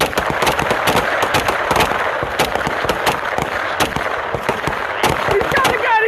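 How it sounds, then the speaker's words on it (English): Gunfire during a police shooting: a dense, loud, rapid string of sharp shots, many overlapping and sounding near, with shouting voices mixed in. "He's still shooting!"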